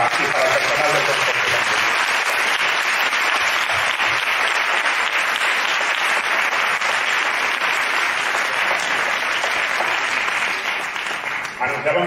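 Sustained audience applause at a folklore school tribute event, honoring the folklore school monitors and staff; a dense, steady roar of many hands clapping for about twelve seconds, tapering slightly at the end.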